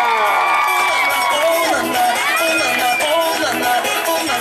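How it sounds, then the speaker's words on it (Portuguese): Guests at a birthday party in São Paulo's east side cheer, whoop and clap loudly for a sister, a dense festive crowd roar with children's shouts and music-like tones underneath. "Uma salva de palmas para sua irmã Nela!"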